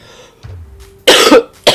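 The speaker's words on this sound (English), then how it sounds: "The cough." A person coughs twice up close, one loud harsh burst followed by a shorter second one, after a brief low grunt, with no speech.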